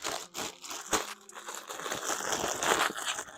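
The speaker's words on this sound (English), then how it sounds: "So pulling this out, if I can get the damn bag open." Crinkly plastic bag being torn open to get at stickers and matches from a Bathing Ape unboxing, a close, busy rustle with sharp crackles and one louder snap near the start.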